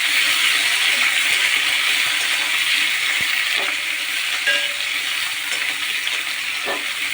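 Green banana, potato and green chili fry in oil over a cumin tempering, a steady loud sizzle with occasional scrapes and clinks of stirring.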